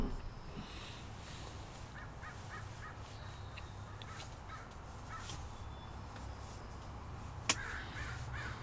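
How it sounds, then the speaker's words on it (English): Crows caw intermittently at a distance over a steady outdoor background hum, with one sharp click near the end. "Birds are very nice to hear."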